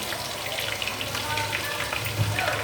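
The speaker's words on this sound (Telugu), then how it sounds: "ఇప్పుడు ఇది అల్లం పేస్ట్ వేస్తున్నాను ఇందులో" Raw ginger paste frying in hot oil in a pan, a steady dense crackling sizzle throughout, close and even, with no clear pauses.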